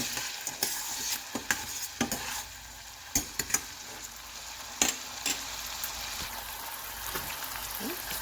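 Unsalted butter and garlic sizzling and melting in a pan: a continuous close frying hiss with scattered pops and occasional utensil taps, steady throughout with no voices.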